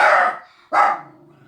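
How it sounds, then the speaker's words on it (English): A dog barks twice in quick succession, each bark loud, sharp and close, with a short pause between them and no voices. "Sorry, my dog went crazy."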